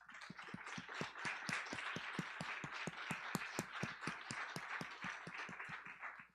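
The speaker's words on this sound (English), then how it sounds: "we really need to take a much larger round of applause for Bill because he's our prize sponsor" A large audience claps for a prize sponsor at a venture challenge event, with dense, steady applause of many sharp individual claps continuing throughout, fairly distant and without speech.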